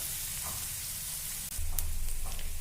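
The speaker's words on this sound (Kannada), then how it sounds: "ನೋಡಿ ಈರುಳ್ಳಿ ಹುರಿದೈತಿ" Onions fry in a pan for an aloo matar paratha filling, giving a steady close sizzle and hiss with a faint scrape; a low hum grows louder halfway through. No one speaks.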